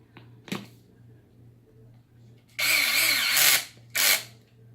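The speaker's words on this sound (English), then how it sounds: "this is why I like to use a drill, because it makes it a hell of a lot faster" A cordless power drill, clutch set low, drives screws on a beadlock RC wheel in short bursts: a faint blip, then a long buzzing run and a second brief whir, close up with no talk.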